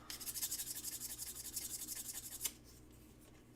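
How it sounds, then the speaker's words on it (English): Sanding stick smoothing a small piece with quick rhythmic back-and-forth strokes, about a dozen close, soft rasping passes that stop abruptly, followed by quiet. "That's why I am using my sanding stick and not the file."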